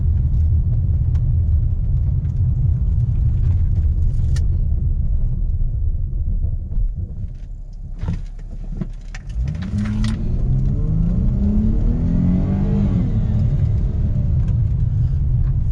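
A Chrysler 300 rolls along a gravel road with a steady low rumble and crunching noise, the engine rising briefly as it speeds up near the end.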